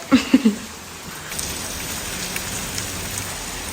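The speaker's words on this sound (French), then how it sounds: "je crois que quand on dit pleut des cordes, c'est un peu ça" Heavy morning rain pours down across a surface in Italy, a dense continuous hiss with a few louder thuds at the very start.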